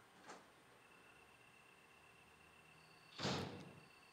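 In the Resident Evil video game, a door opens with a soft click followed by a louder swishing thud a few seconds later, both heard faintly over a quiet ambient background hum.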